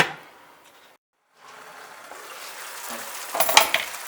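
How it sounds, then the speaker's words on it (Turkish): Potato and tomato breakfast cooking in a covered pan, a steady sizzle that drops out briefly and then builds louder, with a sharper burst of crackling near the end. "Hemen tavanı kapağını kapatıp kahvaltılığımızı pişmeye bırakıyorum."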